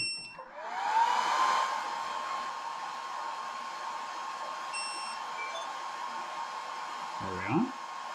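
A Longer B1 40W laser engraver with an extension kit powers up with a rising whine that settles into a steady, loud fan-like hum, with faint beeps and a brief mechanical clunk as the gantry moves.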